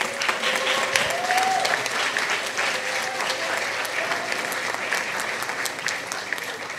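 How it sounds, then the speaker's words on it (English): A church congregation at a Sunday worship service applauds honourees with steady, sustained clapping that fills the room throughout, with a few voices faintly mixed in. "Let's give all of them a rousing round of applause."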